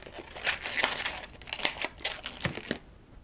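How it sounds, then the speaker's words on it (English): A latex balloon is folded over and pinch twisted into a small bubble, giving a run of squeaky rubbery crinkles and rubbing sounds up close, irregular over a few seconds with no talking. "we're going to pinch twist that by folding it over"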